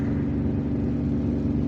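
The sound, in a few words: car engine climbing a steep road in second gear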